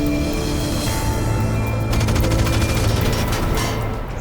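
Dense, continuous gunfire with rapid bursts and booms, loud and sustained throughout, like a chaotic film shootout with motorcycle robbers.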